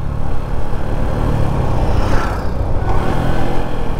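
A motorcycle ridden along the Ramgarh–Tanakkapara border road, its engine a continuous loud, close rumble mixed with wind noise.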